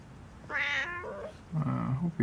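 A kitten groggy from anesthesia after spay surgery gives two distinct meows, the first higher and drawn out, the second lower and rougher, close by in a quiet room.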